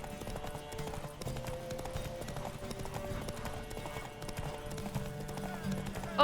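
Steady clip-clop of galloping horse hooves in The Witcher 3: Wild Hunt, rhythmic and continuous, with a busy game background and occasional faint voices.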